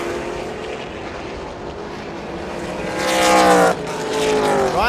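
Race cars, including a Porsche, a Supra and an Evo, competing in a Thailand Super Series race: close, loud engine howls that climb in pitch as cars pass, one sweeping by with a rising whine, then another starting to build.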